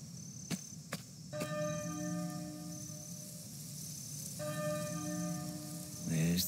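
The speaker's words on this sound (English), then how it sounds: "There's the bell again." A church bell tolls in Octopath Traveler II, sounding two sharp strikes and then long ringing tones that sustain and decay, with a second peal partway through, over a soft rain-like ambience and no clear voices.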